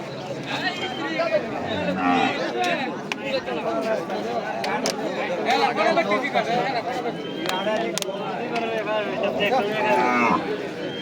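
Cattle low repeatedly at the Nilganj cattle market in Kishoreganj, Bangladesh, loud moos rising over a busy murmur of crowd chatter and bargaining voices.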